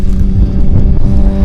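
A 2019 Kawasaki ZX6R motorcycle running hard through quick-shifter gear changes, a loud close engine roar with steady tonal pitch and brief dips, no talk.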